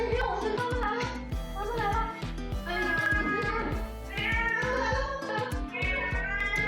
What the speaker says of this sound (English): He hung on the garage door fasteners and pitifully called his mistress for help.